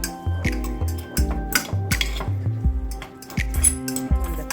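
Spoon clinking and scraping against a bowl while stirring a little sesame seed oil into a homemade vegan chipotle bowl, with repeated close, rhythmic knocks and clinks throughout.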